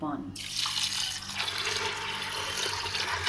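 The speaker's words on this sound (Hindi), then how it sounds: "पानी हम इसमें और ऐड करेंगे" Water pours in a steady splashing stream into a pot of chicken harissa with wheat, continuous and close for a few seconds while someone talks over it.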